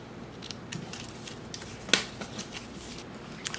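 Scissors trimming a paper planner insert, a few soft snips and paper rustles with one sharper cut near the middle, close-up and quiet, no voices.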